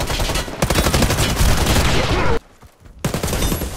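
Rapid bursts of automatic gunfire from a video game gun, loud and dense for over two seconds, then a brief pause before the shooting resumes.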